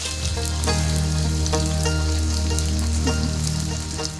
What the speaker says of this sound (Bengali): গরম হয়ে গেছে, এবার আমরা হচ্ছে কাঁকড়াগুলো সব দিয়ে দিব।